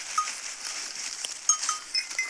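Small bells worn by grazing goats in the Kenyan bush clink and jingle irregularly and fairly faintly, with scattered brighter tings over a soft outdoor background and no talk.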